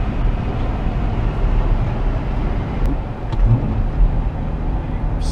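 A Jeep JK fitted with an intake resistor drones with a steady, loud low engine rumble that swells slightly as it pulls along, heard up close from inside the vehicle.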